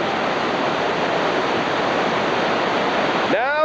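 Whitewater rapids on the Gauley River in West Virginia, a steady loud roar of rushing water and waves that continues unbroken throughout.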